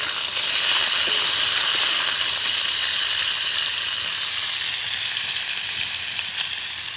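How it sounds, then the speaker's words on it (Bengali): Sliced potatoes and bitter gourd frying in a pan give a steady, close, hissing sizzle that fades slightly toward the end, with no talking. "এবার আমি কেটে রাখা আলুগুলো ওরই মধ্যে দিয়ে দেবো, দিয়ে ভালো করে ভাজতে থাকবো আলুগুলো।"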